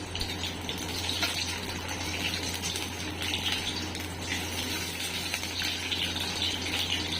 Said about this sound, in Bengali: ওই জন্য হালকা করে একটু ভেজে নেব।